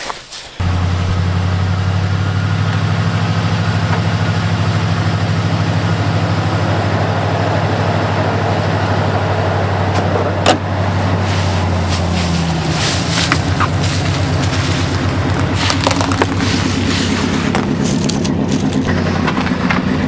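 A 5.3 LS V8 in a donor pickup truck, missing cylinders, cranks and fires, then runs with a loud, rough idle that holds steady throughout, with some clatter and rattling over it.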